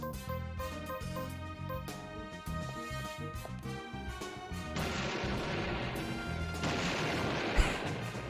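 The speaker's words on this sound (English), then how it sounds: "We got an infinite rocket launcher" Rocket launcher fire and a heavy explosion in the survival horror video game Deadly Premonition, loud booming blasts over game music, with a crashing burst near the end.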